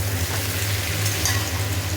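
Whole cinnamon, cumin and bay leaves fry in oil as the base of a chicken and capsicum curry, a steady close sizzle over a low constant hum, without speech.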